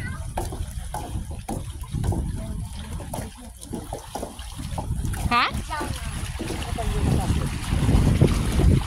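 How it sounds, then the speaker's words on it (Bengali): Cool wind off the sea buffets the microphone in a continuous low rumble, with water washing nearby and voices mixed in underneath. "সমুদ্রের ঠান্ডা বাতাস অনেক ভাল লাগে"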